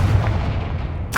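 A Confringo spell blast in Hogwarts Legacy on Xbox Series X, a loud, heavy booming burst that rumbles for about a second, then gives way to a sharp crackling hiss.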